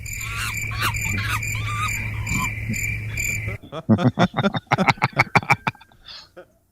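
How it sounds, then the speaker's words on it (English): Continuous high chirping of crickets at first, then a loud rapid series of croaking calls up close, ending in quiet. "You hear his crickets?"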